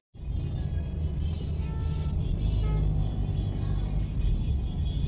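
Road traffic in Vijayawada heard from inside a moving car: a steady low engine and road rumble with a faint swell of passing vehicles, no talking.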